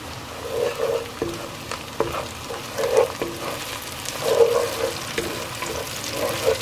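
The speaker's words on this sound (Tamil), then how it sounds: "இந்த இதுல நம்ம டொமேட்டோ பியூரியை போட்டுரும்." Tomato puree frying in a pan for a butter chicken biryani, a steady sizzle with stirring scrapes and a few sharp clinks of a utensil against the pan, moderately loud throughout.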